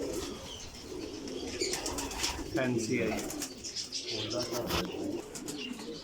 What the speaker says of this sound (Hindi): ये माशाल्लाह चौधरी सफ़ी वाला कबूतर है